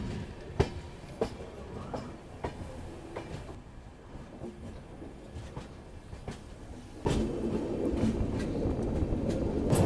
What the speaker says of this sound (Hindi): हमारी ट्रेन ट्रैक चेंज कर रही है